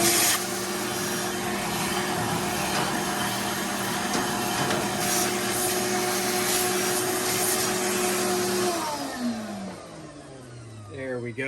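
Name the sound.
vacuum cleaner cleaning ash from Traeger Timberline XL grill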